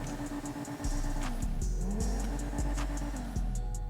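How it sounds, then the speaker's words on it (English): Lampadati Felon car engine in GTA Online revving in repeated sharp bursts, a steady low drone broken by several quick throttle blips, loud and close with no talking. "I kind of feel like it sounds like a lot of other cars on the street in Grand Theft Auto."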